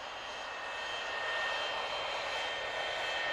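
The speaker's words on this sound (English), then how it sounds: "It's Jeremy the jet plane." A steady, loud whooshing roar of Jeremy the jet plane's engine from Thomas & Friends, a continuous airy jet hiss holding at even volume with no voices.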